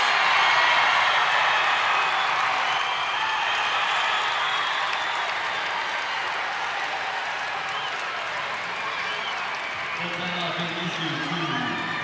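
Crowd at a girls' state AA basketball tournament game cheering and clapping, a loud sustained roar of applause in an arena, with a commentator speaking over it.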